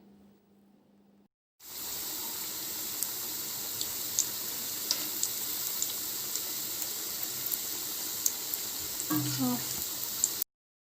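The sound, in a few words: tapioca cutlets deep frying in hot oil in a kadai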